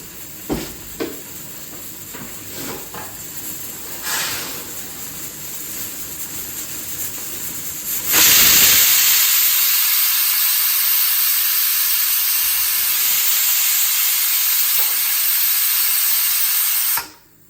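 After a few small clicks and hisses, a pressure cooker cooking mint rice on the stove lets out a loud, sustained whistle of escaping steam. The hiss holds steady for about nine seconds, then cuts off abruptly, with no talking.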